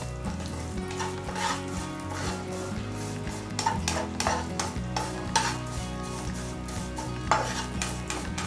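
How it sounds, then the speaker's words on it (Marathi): Garden cress seeds toast in ghee over a low flame, with a soft continuous sizzle and frequent light clinks and scrapes of a spoon against the pan. "हे अळीव छान असे फ्राय करून घ्यायचे"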